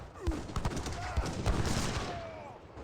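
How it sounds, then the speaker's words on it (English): A volley of heavy cannon fire in the Age of Empires 3 video game, a rapid run of booming shots and thuds over a few seconds, with faint in-game sounds mixed in. "That was a massive volley there from the heavy cannon."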